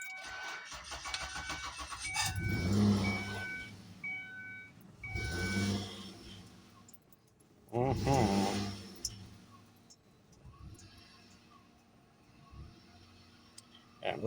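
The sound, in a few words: car engine starting and running on an older battery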